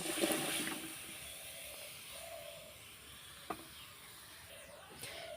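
Chopped potato, eggplant and cabbage tipped into a hot pan at a village cooking spot, setting off a steady soft sizzle that hisses on evenly, with a small clatter partway through.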